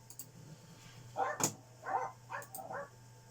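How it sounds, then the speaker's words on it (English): A few short, muffled barks from Jack Russell terriers outside in quick succession, distant and fairly faint against a low hum. "If you can hear dogs barking outside"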